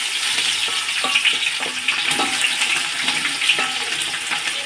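Onions frying for chicken biryani in a pan with whole spices like bay leaf, star anise, cinnamon, cardamom and cloves: steady close sizzle and crackle with a few stirring scrapes, no talk.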